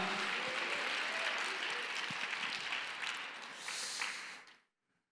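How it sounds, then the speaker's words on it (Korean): A church congregation applauds together after a call to praise, a dense broad wash of many hands clapping steadily for about four and a half seconds before stopping abruptly into silence. "감사와 영광의 박수를 한번 먼저 올려드리겠습니다"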